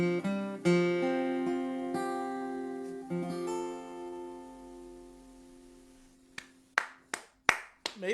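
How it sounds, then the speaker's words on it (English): A few sharp claps ring out near the end, isolated and close, after a long stretch of sustained musical tones fading out; sounds like a single person or a small scattered group applauding. "There's plenty of people clapping."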